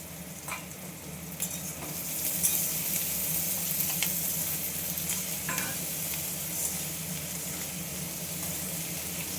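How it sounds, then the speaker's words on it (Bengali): Chopped and whole garlic and green chillies fry with onion in a pan, making a steady, loud sizzle throughout with occasional spatula scrapes and stirring clicks, and no voices. "এই রসুন কুচি আর রসুন কটা গোটা রসুন আর কাঁচা লঙ্কা একসঙ্গে পেঁয়াজের সঙ্গে ভেজে নেব।"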